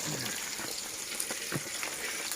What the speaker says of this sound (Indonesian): Oke guys, kita goreng tangkapan tadi nih.